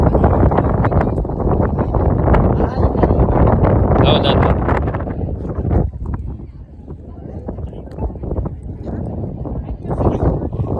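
Strong wind buffets the microphone in heavy gusts at the seashore during the Bhadarvi fair at Gopnath Mahadev, with people talking over the roar and the wash of open water behind.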